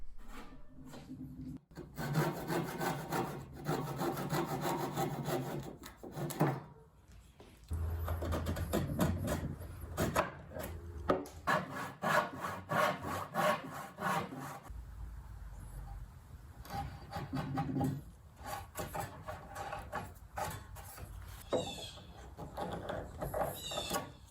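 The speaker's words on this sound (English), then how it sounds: "I'll come back with a dovetail saw as well as some chisels to refine the fit" A dovetail saw rasps through wood in repeated back-and-forth strokes, close and fairly quiet, with brief pauses between bursts of cutting during shelf fitting for a live edge sofa table.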